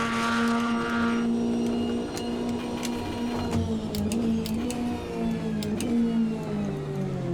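Race car engine in the Automobilista 2 sim racing game held at high revs in 5th gear, a loud steady tonal whine that shifts pitch slightly, with sharp clicks and ticks scattered through, no voices.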